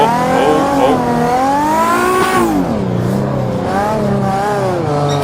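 A car held in a handbrake drift, its tires squealing in long wavering, rising and falling tones over a loud engine roar, close and continuous throughout.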